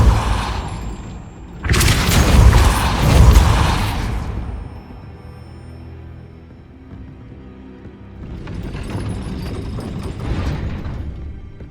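A stone gate mechanism in Hogwarts Legacy, set off by a Depulso spell at the High Keep, gives a loud burst of rumbling noise, then a long low grind and a second, softer rumbling surge.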